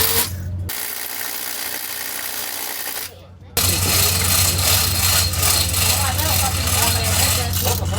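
A ratchet tightens a clamp on a wooden boat's sacrificial keel, giving a loud, continuous rapid clicking mechanical rattle that briefly pauses and then resumes close by.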